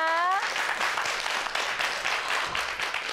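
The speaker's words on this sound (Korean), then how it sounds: "큰 박수 보내주시기 바랍니다." Audience applause for a guest teacher in a Korean broadcast studio, a dense steady patter of clapping that runs the whole time, with a brief tonal chime fading at the very start.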